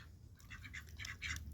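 Ducks quack in a garden kept with chickens and bantams, a quick run of soft, faint nasal calls over low background rumble.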